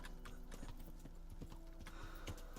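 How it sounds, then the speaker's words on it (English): Horse hooves clip-clop in the medieval video game Kingdom Come: Deliverance, a quiet, steady rhythm of hoof strikes with faint game ambience and no talk over it. "Horse, move! Horse! Why are you stuck?"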